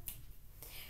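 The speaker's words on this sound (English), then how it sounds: "I snap my fingers to get him to calm." Two quick, faint finger snaps made to calm a pet cat, the first just at the start and the second about half a second later, in an otherwise quiet room.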